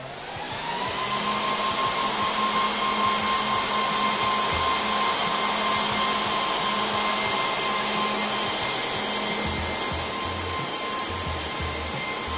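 A Dell PowerEdge R710 server runs loudly, its fans producing a constant whooshing roar with a steady high whine, close and uninterrupted, with nobody speaking.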